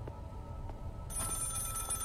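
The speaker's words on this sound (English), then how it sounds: "So where's the phone that I can hear ringing?" A telephone rings in the video game Maid of Sker, a repeated bell-like ring that starts partway through over a low ambient drone, moderately distant and with no talking.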